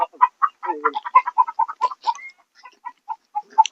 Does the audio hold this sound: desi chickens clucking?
yes